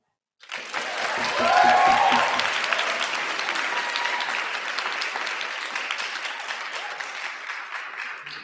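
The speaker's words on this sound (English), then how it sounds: "I'd like to go to give a warm round of applause to our guest chair this evening, Dr. Melissa Webb." A warm round of applause for a guest chair at a debating final, starting abruptly and holding as dense, full clapping from a room audience, slowly easing off over several seconds.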